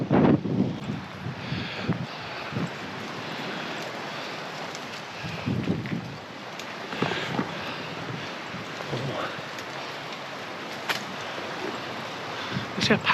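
Strong wind gusting on a coastal railway walk at Teignmouth in August, a broad continuous roar buffeting the microphone with surging gusts throughout.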